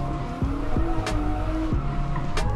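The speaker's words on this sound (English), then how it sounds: "I'm drifting in fourth gear" A street car drifting in fourth gear in Need for Speed Underground 2, steady engine drone with repeated tire squeals sliding up and down in pitch, loud and close, no talk.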